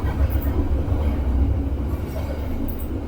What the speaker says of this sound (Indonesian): maaf, ada kereta lewat